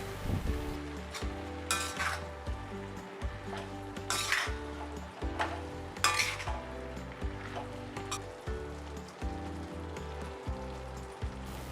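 Spinach and potatoes frying in a pan for aloo palak, stirred with a steady sizzle and periodic scraping strokes of a utensil against the pan, close and moderately loud.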